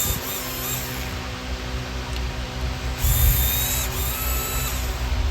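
An old first-generation Snap-on 7.2 volt cordless drill, without a clutch, whines steadily at close range on an RC workbench, with its pitch shifting slightly and rising louder partway through.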